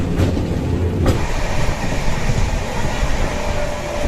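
The Tamralipta Express rumbles along steadily on the way to Digha during the monsoon, a loud low roar of wheels and carriage noise with faint clatter, heard from inside the moving train.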